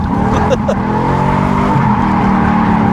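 Steady engine roar of an automatic Lexus GS400 drifting, heard from the back seat, with tires squealing in drawn-out skids over the constant drone.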